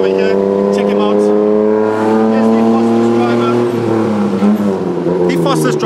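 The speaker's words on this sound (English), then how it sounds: "sitting in a very lovely tuk-tuk" Tuk-tuk motor driving through Bangkok traffic, a loud, close engine drone that holds steady and then rises as it revs, with people talking over it.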